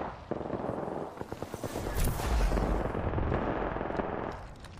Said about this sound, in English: The other team is firing at him, Mark.